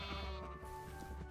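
A sheep in the video game Minecraft gives a single wavering bleat, clear and close, lasting about a second over a quiet background.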